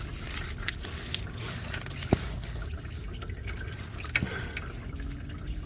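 Coolant drips near a car's oil filter as a few sparse, faint drops over a steady low background hum, with no voices.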